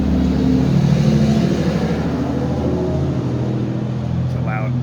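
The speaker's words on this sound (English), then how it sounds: "It's a loud truck." A loud truck rumbles past on a street, its low engine drone heavy and continuous, swelling slightly then holding steady.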